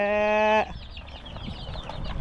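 Poultry on a rural village farm: a loud, sustained harmonic crow-like call for about half a second, then scattered clucking and bird chatter over low background noise.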